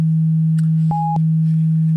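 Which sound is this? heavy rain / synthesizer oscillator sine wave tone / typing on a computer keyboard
synthesizer oscillator sine wave tone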